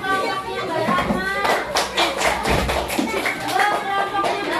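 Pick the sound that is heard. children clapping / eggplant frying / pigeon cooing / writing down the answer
children clapping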